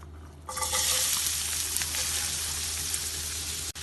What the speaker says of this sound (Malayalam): എണ്ണ ചൂടാവുമ്പോൾ ഇതിലേക്ക് കുറച്ച് വലിയൊരു സവാള വളരെ ചെറുതായി മുറിച്ച് ചേർക്കാം.